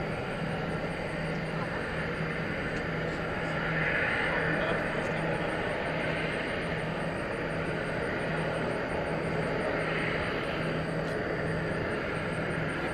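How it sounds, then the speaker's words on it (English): A plane arriving from LaGuardia at DFW Airport at night makes a broad, distant rumble and roar that swells gently, heard alone without talk. "So here comes the flight from LaGuardia."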